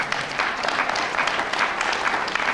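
A political rally crowd at the Nullify Now event claps in steady, dense applause that holds at an even loudness throughout, with no talk over it.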